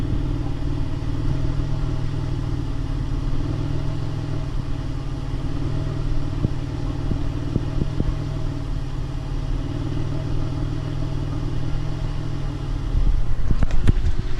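A Pontiac Grand Prix GTP engine idles roughly at close range, a steady low rumbling drone with slight unevenness that grows a little louder near the end.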